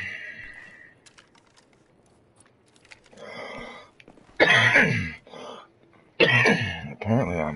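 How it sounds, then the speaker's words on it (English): A man with a sore throat coughs and clears his throat in harsh, loud bursts, two main fits after a quieter start, alone with no speech. "Coughing my head off this morning"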